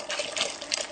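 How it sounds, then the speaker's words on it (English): Hot liquid poured straight into an egg mix for crème brûlée, a brief steady trickling and splashing stream heard up close with no talking. "we pour this straight into the egg mix"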